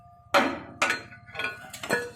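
Hammer blows driving a stubborn pin out of a chain, four sharp metallic strikes spaced unevenly about half a second apart, each with a brief ringing clink, close and alone.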